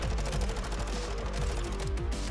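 Rapid bursts from a Vaznif rifle in Call of Duty MWII, with steady repeated shots close up over a continuous busy game backdrop.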